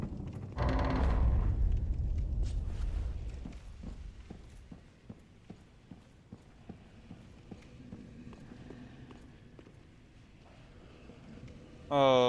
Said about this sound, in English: Big door opening.